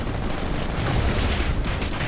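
A dense, sustained blast from an arc cannon in the video game Titanfall roars continuously, loud and close, unleashing rapid energy bursts.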